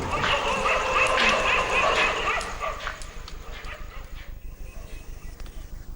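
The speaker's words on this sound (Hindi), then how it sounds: "शहर के कुत्तों ने शोर मचाकर इंसानों को भी खतरे से आगाह कर दिया।" Dogs in a city raise a commotion, with repeated yips and barks blending into a dense, noisy backdrop at first, then a quieter stretch of rapid, rhythmic pulsing continues to the end.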